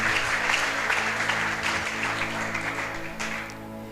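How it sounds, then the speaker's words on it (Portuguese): A church congregation applauds during a Portuguese-language worship service, a sustained wash of clapping that gradually thins and fades toward the end, with a faint musical hum beneath. "Você pode aplaudir o Senhor por isso, irmão?"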